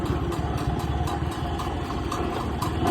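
An IH Farmall M tractor engine idles steadily and close by on a farm field where sweet corn is being planted, a continuous low throbbing rumble with no voices over it.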